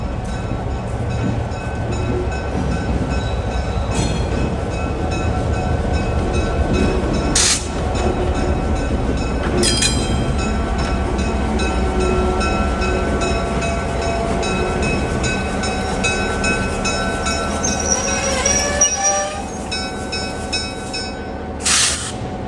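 A passenger train rolls into a station during Scranton Railfest, a steady loud rumble of wheels and cars with a few sharp metallic clanks and a brief high squeal near the end, continuous throughout.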